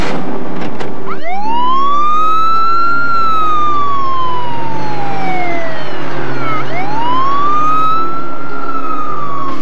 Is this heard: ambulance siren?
yes